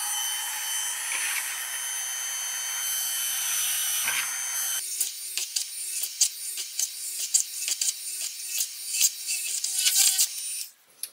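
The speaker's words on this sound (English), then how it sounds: "So make lots of little holes and then we're going to finish up with the scalpel." A small hand drill boring a series of little holes through a project box, heard as a high whirring motor that gives way to short, repeated bursts of drilling.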